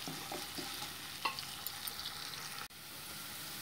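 Thinly sliced onions frying in a pan toward light brown, giving a continuous soft sizzle with a few light scrapes, before a brief dropout and a return to the steady hiss.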